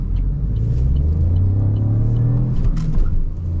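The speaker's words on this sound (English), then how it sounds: "wheel spin into second, will it hop?" 2020 Vauxhall Corsa 1.2T turbo pulling hard with wheel spin into second gear, a deep rumbling engine drone that rises in pitch and stays loud throughout, heard from inside the car.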